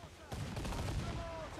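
Naval cannon fire from a pirate ship's broadside guns in Assassin's Creed Black Flag, a sudden loud rumbling blast that rolls on as sustained booming under ocean and battle ambience.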